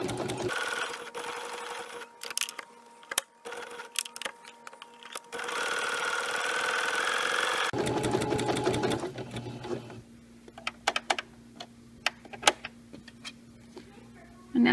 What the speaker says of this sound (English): I'm just sewing right over that same area.